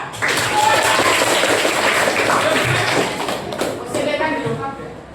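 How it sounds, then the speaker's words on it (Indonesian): Group of participants clapping for the Putra team at a teacher training session, a dense, steady burst of applause for about three seconds that thins and tapers off, with voices mixed in. "tepuk tangan untuk kelompok Putra"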